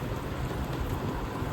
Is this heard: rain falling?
yes